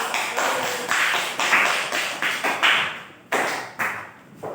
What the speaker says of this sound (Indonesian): Tepuk tangan semuanya untuk kelompok 1